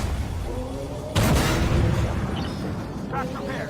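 A tank cannon in the Armored Warfare video game fires one loud, sudden boom that rolls off into a decaying rumble, with someone speaking over the engine noise.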